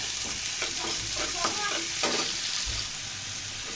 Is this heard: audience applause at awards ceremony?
no